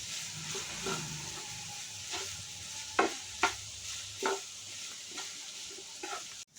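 Salted cluster beans are stirred in a frying pan, a low steady sizzle broken by several sharp scrapes and clinks of the spoon against the pan.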